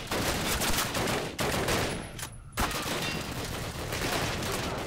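Heavy automatic gunfire in the shooter game Call of Duty, loud and continuous bursts filling the scene, with a brief lull in the middle before the shooting resumes.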